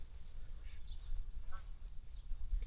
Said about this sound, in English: Lots of geese and ducks out